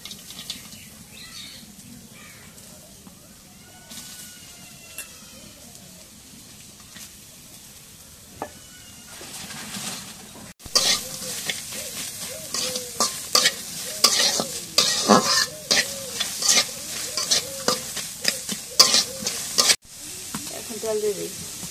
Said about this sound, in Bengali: এখন কড়াইয়ের মধ্যে পেঁয়াজ কাটা মরিচ কাটা দিয়ে দিই।